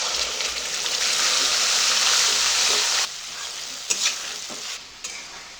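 A paste of tomato, ginger and green chili hits hot tempering spices in a pan and sizzles loudly while being stirred. After about three seconds the frying settles into a quieter hiss with a few scrapes and clinks.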